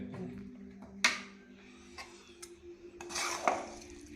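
Metal utensils clink and scrape against a pot of mango pickle with vinegar in a few scattered strikes and rubs, with a steady low hum in the background.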